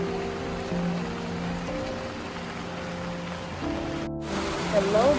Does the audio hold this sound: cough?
no